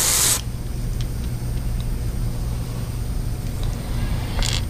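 An airbrush sprays paint onto a fishing lure during a custom repaint, a brief loud burst of spray at the start followed by a quieter steady hiss, with another short spurt near the end.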